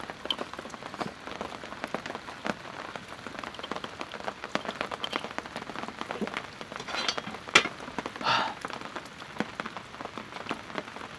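Steady rain patters on the roof of a rooftop camping shelter, a dense, even wash of drops with occasional louder splats close by, continuous throughout with no voices.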